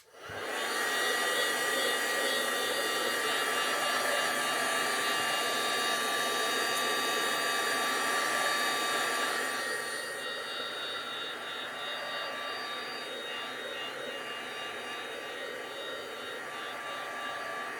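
A dryer blows hot air over metallic paint on floral artwork, starting abruptly with a steady loud whirring hiss that shifts lower and quieter about halfway through, then holds alone.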